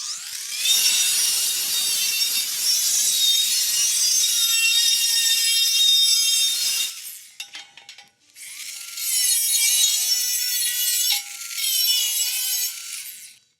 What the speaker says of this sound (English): An angle grinder with the cutoff blade works well for this.